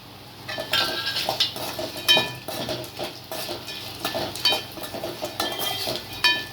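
A spoon scrapes and clinks around a pan in irregular strokes while turkey berries sizzle and crackle softly underneath.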